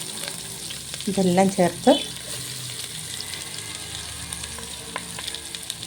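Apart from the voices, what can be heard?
onions, ginger, garlic and chilies frying and being stirred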